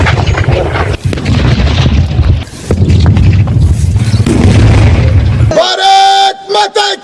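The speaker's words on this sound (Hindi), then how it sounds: "यहां पर धमाके हम दिखा रहे हैं, और ये धमाके पाकिस्तान की तरफ से जो गोलीबारी की गई, जो मोर्टार दागे गए, उसे डिफ्यूज किया गया" Pakistani mortar shells are being defused by detonation, giving loud, continuous booming blasts and rumbling. At the end the blasts give way to people shouting and chanting.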